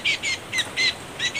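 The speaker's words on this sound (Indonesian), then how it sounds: "Ini ya, contoh burung malipaga dan lurik." Short bright chirps from caught malipaga and lurik birds, about five repeated bursts in a quick uneven rhythm, close and clear with no talking.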